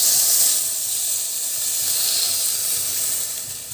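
Filipino-style fish escabeche sauce heating in a pan, giving off a steady, close hiss and sizzle that holds at an even level throughout with no voices.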